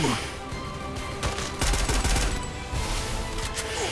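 Groza rifle gunfire from the Free Fire battle royale game, loud rapid bursts of automatic shots with heavy low-end thump, rolling across the whole stretch without pause.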